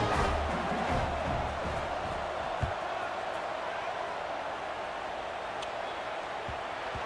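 A stadium crowd buzzing in the College Football 26 video game right after a touchdown. It is a steady, dense wash of far-off crowd noise that fades slightly over the seconds, with a few faint thumps in it.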